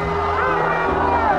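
A crowd shouts and yells loudly at a political meeting in America, overlapping voices rising into a raucous continuous roar close by.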